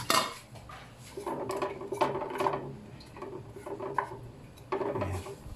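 Ginger pieces dropped into a wok for paksiw na bangus, giving a few clattering scrapes and knocks of metal and utensil in quick bursts, near and fairly loud, with no talk.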